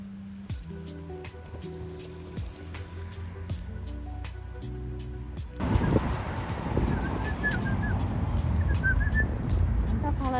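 A person whistles short repeated melodic phrases imitating small birds, with real birds chirping faintly behind, then a louder gust of outdoor noise takes over as the whistling continues in brief chirps.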